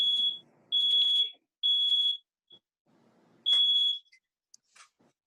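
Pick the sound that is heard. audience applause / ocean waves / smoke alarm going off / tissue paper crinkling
smoke alarm going off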